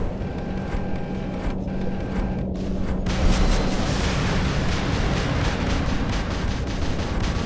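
Missiles fire in the War Robots video game, a dense barrage of rumbling blasts and crackling explosions that swells into a continuous loud roar, with a thin electronic tone early on.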